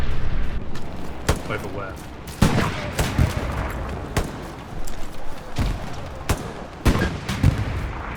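Heavy anti-tank gun fire in the World War II shooter Hell Let Loose, with several sharp booming blasts at irregular intervals over constant battlefield noise, while a voice speaks briefly in between.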